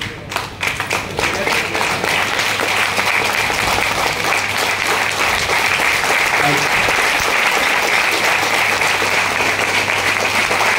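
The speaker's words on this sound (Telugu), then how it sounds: "క్లాప్స్ కొడితే ఏమవుతుంది?" An audience at a Telugu health supplement training session claps hands steadily and loudly for about ten seconds, a dense continuous patter of applause after a brief sharper start.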